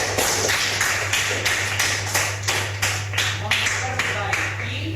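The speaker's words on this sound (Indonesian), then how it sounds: "Kasih aplaus untuk kita semua." A class applauds together: rhythmic, unison claps in a steady beat at close range, over a low constant hum.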